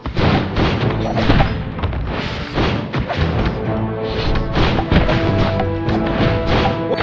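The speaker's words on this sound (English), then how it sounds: "Three shots." Gunfire in the Android game Almost A Hero: dense, booming shots and crashing impacts in steady succession, layered over loud game music with no pauses.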